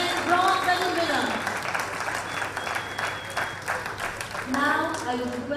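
Audience applause at an ISSF Shooting World Cup medal ceremony in Bhopal for the men's 10-meter air rifle bronze medalist, a steady burst of clapping with an announcer's voice over it at the start and again near the end.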